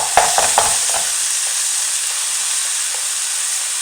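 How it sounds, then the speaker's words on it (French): Meat stuffing for stuffed msemen being stirred in a hot pan, a few sharp scraping clicks early on over a steady close sizzle and hiss that continues alone. "Et je commence à mélanger ma farce convenablement, histoire que la viande soit bien mélangée au reste d'ingrédients."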